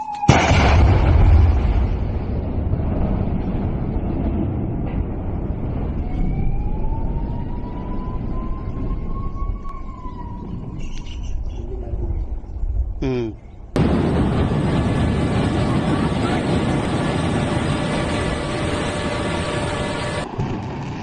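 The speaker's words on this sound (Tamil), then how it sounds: "50 ஆண்டுகள் பழமையான 4 கோபுரங்கள் வெடிகுண்டு வைத்து அகற்றப்பட்டன" Four 50-year-old cooling towers at a thermal power plant in Telangana are brought down with explosives: a sharp blast opens into a long rumbling roar, with rising siren-like tones and voices, then a steady mechanical hum.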